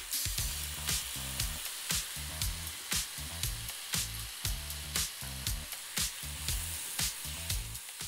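Chicken seared hard on all sides in a hot pan for butter chicken, a steady close sizzle broken by regular bursts of crackle as pieces are stirred and turned, with no talking.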